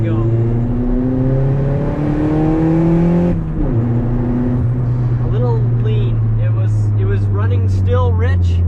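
Turbocharged Honda Civic with a D16Y7 engine pulling hard in second gear from about 3,500 RPM, a loud, steadily rising engine tone with a brief break at a shift, and faint voices under the later part.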